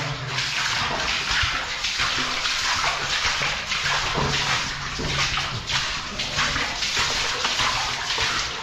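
Water trickles and splashes steadily inside an abandoned underground mine in Derbyshire, running over calcified rock. The sound is a continuous, faint wash that echoes gently, with no voices.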